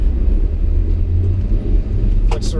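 A Hijet mini truck fitted with a snow plow drives into a yard, its small engine giving a steady low rumble close by throughout, with a brief higher rattle near the end.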